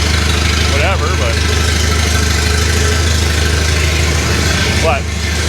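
A Volvo P1800's four-cylinder engine, a field find parked for 25 years, idles steadily and close by, a continuous even rumble that fills the whole stretch, with brief voices breaking in near the start and end.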